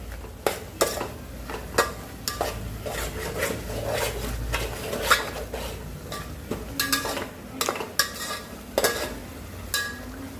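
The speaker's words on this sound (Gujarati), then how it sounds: "હવે આપણે થોડીક મેથીને તેલમાં સળવા દઈશું, પછી એમાં મરચું ને સીણાનો લોટ નાખશું." Fenugreek leaves frying in oil with turmeric and salt in a home kitchen pan, with steady sizzling under repeated scraping and clinking strokes of a stirring utensil, close and busy, no talk.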